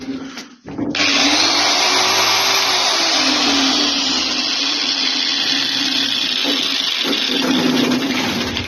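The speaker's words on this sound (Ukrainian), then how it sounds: "Болгарка працює. Раз так вімкну вам." An angle grinder a little under a year old, repaired after broken wires in its cord, starts up after a short pause and runs loud and steady with a high whine for about eight seconds, alone without talk.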